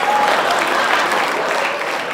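Audience applause at a comedy Q&A show with senior performers, a dense steady clapping that stays loud throughout without a break, with no voices over it.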